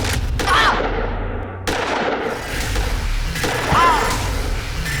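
Gunshots in a TV crime drama, several sharp loud bangs spaced across the scene, some with trailing echo, over a dense layer of dramatic effects.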